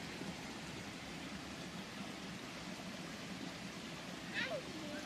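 Babbling brook on a hike, a steady soft rush of flowing water, faint and even throughout, with a brief higher sound near the end.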